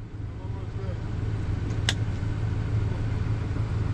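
A Peterbilt truck engine runs with a steady low idle rumble close by, joined by a single sharp high click partway through.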